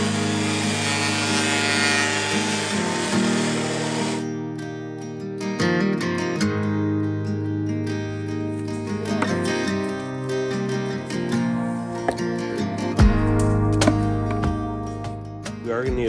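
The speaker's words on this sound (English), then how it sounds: "We're going to use a 12-inch portable planer that I got from my parents' house last year." A 12-inch portable planer roars steadily and loud while taking thin passes off a wooden board for a charcuterie board, with a sharp tonal hum, rattling bursts and a heavier grinding pass near the end.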